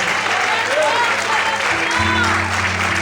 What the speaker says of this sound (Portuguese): Todos podem aplaudir e exaltar o Senhor.